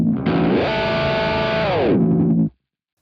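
Boss GX10 guitar multi-effects unit running a distorted tone through a pitch-shift effect: a sustained distorted note glides up in pitch, holds, then slides back down before cutting off abruptly.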